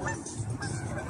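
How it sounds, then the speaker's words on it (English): Geese honking outdoors by the water, a dense cluster of overlapping calls, fairly close and continuous over a brief moment. "Look at all these geese."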